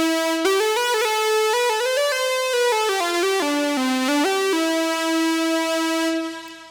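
AJHSynth MiniMOD synthesizer with its VCO animated into a wave swarm, a thick, shimmering, harmonically dense tone gliding through a rapid melodic sequence of pitches, steady and loud, fading out at the end with no voices.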